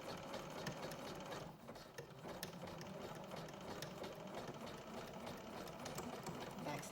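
A sewing machine stitches foam sports bra cup pieces laid edge to edge, its needle chattering in a rapid, steady mechanical rhythm, close and continuous and fairly quiet.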